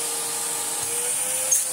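A restored 1930s Hoover 825 antique vacuum cleaner runs steadily with its hose drawing suction, giving a constant motor whine and airy rush that holds at an even level throughout, close by and with no talking.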